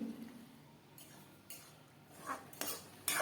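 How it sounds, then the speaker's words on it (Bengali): A utensil scrapes and clinks against a pan as grated coconut is stirred with ghee, faint and intermittent with a few brighter metallic scrapes toward the end. "আমি সব কিছু দিয়ে ভালো করে মিশিয়ে নিয়ে নেড়ে চেড়ে নিচ্ছি"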